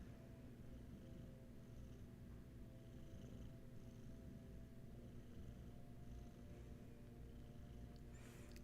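A sleeping kitten curled on a lap purrs in a soft, continuous low rumble, close and quiet, with steady rhythm throughout and no talking.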